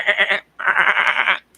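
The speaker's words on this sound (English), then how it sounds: "Because I have goats, right? I got goats myself" Two goats kept at home bleat close by, a short wavering bleat followed after a brief pause by a longer, louder one with a pulsing tremble.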